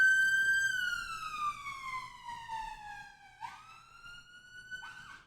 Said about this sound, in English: you get an ambulance going past at maximum volume